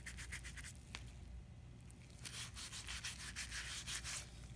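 Steady rubbing and scraping strokes of sandpaper against soapstone, quiet and close, in a rhythmic back-and-forth pattern.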